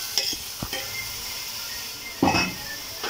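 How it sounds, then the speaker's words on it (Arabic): Sliced onion is dropped into a hot pan in a couple of loud bursts, with clattering pan contact and a brief sizzle and hiss over a quieter steady background, with no talking. "هنرمي بقى البصل"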